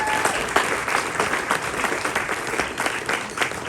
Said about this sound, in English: Let's hear it for Melissa.